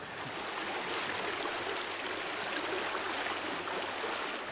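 A creek swollen by heavy rains flows steadily past vegetated, stabilized banks, a soft continuous rushing wash without pause and no voices.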